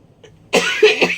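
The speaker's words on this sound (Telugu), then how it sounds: "దానివల్ల దగ్గు కూడా వచ్చేస్తుంది" A person with a cold gives a sharp, close cough in two or three quick bursts after a brief quiet moment.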